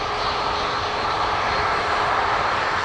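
Ryanair airliner engines roar steadily and loudly at Dublin Airport as a flight to Gdansk departs, a broad, continuous jet rumble with no voices.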